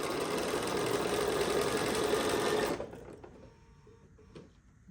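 A sewing machine runs steadily while stitching quilt blocks, a close, even mechanical whir that stops partway through and leaves faint handling noises behind.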